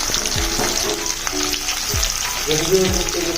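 Food frying in a hot pan on a gas stove, a loud, continuous sizzle and spatter close by, with brief voices and low sounds mixed in.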